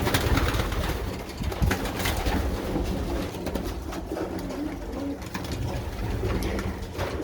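Pigeons coo continuously and fairly loudly while they are fed lunch, with soft throaty calls layered over a dense, steady background of wingbeats and shuffling.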